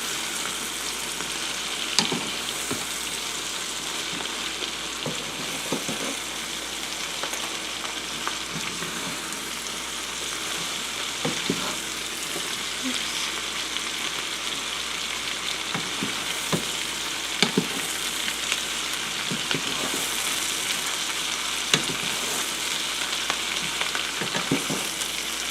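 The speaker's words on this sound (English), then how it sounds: "I just want to stir it so the onions" Onions and cabbage sizzle steadily in a hot pan for fried cabbage with ham, a dense, constant crackle with occasional scrapes and knocks as they are stirred, close and alone with no talking.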